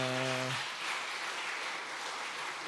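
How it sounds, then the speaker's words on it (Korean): A church congregation breaks into applause after a Sunday afternoon testimony, a steady wash of clapping following a brief spoken word, holding at an even level for a couple of seconds. "박수."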